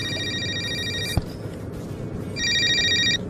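A telephone bell rings in two loud bursts separated by a pause, close and clear, in a horror film scene with no talk over it.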